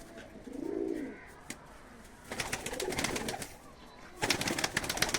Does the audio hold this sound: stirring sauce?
no